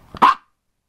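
A single short, sharp dog bark given on command, close and fairly loud, preceded by a faint huff and followed by silence.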